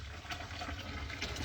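Steady rushing water pours from a tap to fill a water jug with regular water, a continuous gushing stream heard alone at low level.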